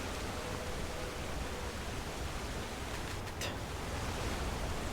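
Steady broadband rush of a waterfall in the Skyrim video game, a continuous dense roar of falling water throughout with no talk.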